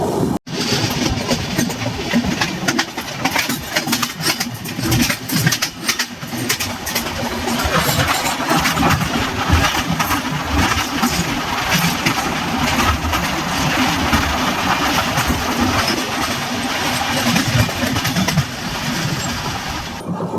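Navajeevan Express train running steadily after leaving Gudur Junction, a continuous rumbling of wheels and carriage noise heard from inside throughout.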